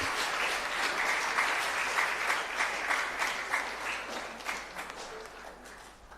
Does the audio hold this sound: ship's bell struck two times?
no